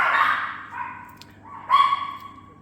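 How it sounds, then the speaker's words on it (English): Dogs bark and yelp nearby in a home crafting studio, a loud burst of barking followed by a second sharp bark and whine, with no talk. "I don't know why the dogs are barking."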